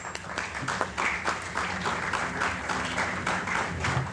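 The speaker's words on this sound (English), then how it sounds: "Let us all put our hands together as our guests arrive among us." An orientation audience at a sports academy claps together as guests arrive, a thick, continuous round of applause with a faint low hum underneath, sustained at a steady level throughout.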